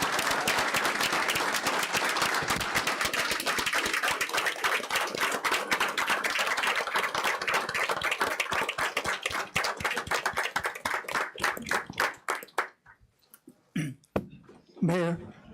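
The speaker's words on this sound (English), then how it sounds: "One more round of applause." Applause at a city council meeting honoring Army service members, a steady roomful of clapping that thins into scattered individual claps and fades near the end, with a few brief voices at the close.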